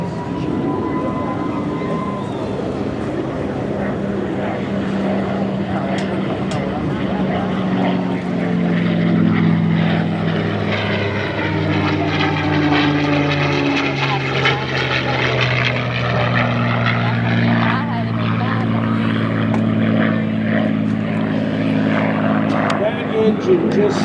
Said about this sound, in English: Engine just sounds so sweet going off into the distance.